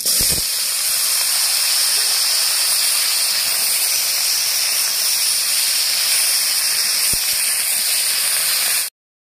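Vegetables tipped into hot mustard oil already tempered with dried red chillies give a loud, steady, close sizzle that hisses on without a break for about nine seconds, then cuts off abruptly.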